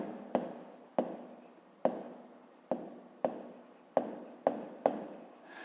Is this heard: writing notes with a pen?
yes